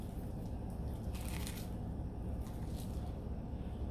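Teeth crunch into crispy fried chicken in a series of close, crackling bites and chews, with brighter crisp bursts in the middle, no speech.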